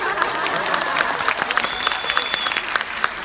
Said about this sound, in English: if it's good, clap now.